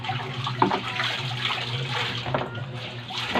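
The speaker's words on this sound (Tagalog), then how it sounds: "Kaya dito maglagay ka lang ng tubig." Water runs steadily into a washing tub, a continuous close rushing and splashing with a low hum underneath and a brief louder splash early on.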